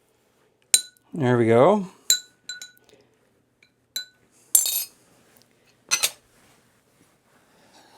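Glass mason jars clink and knock sharply several times as beef is divided between them, with a longer ringing scrape early on and a brief spoken remark.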